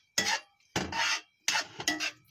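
Sloppy joe sauce with ketchup and mustard being stirred in a cast iron pan, four scraping, rubbing strokes close up with short silent gaps between them.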